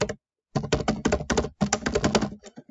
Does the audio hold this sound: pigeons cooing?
no